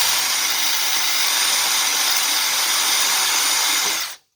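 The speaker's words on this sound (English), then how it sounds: "I'm going to make the hole a little bigger with my drill" Drill enlarging a hole in wood, a steady high whine running unbroken for about four seconds before cutting off abruptly.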